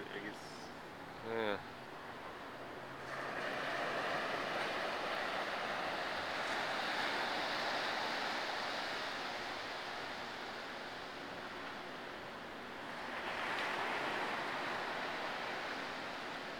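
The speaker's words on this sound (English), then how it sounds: "Waves." Steady rushing surf from ocean waves, a broad continuous wash that swells and eases, with a brief voice near the start.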